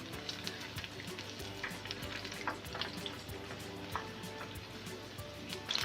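Battered green chili pakoras deep-frying in hot oil bubble and crackle in a quiet, steady hiss, dotted with small pops and a few faint utensil taps.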